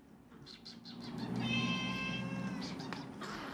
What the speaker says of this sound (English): Larry the cat was unveiled in a carefully managed photo op as Downing Street's new rat catcher-in-chief.